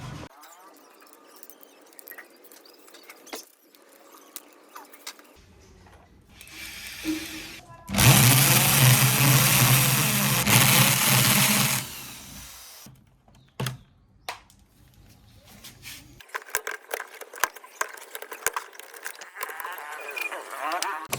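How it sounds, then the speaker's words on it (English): Power drill boring a hole into a car body for a reverse camera, a loud continuous whine for about four seconds mid-clip, with quieter handling noises before and after. "It is a bit tricky to reach there using the drill machine"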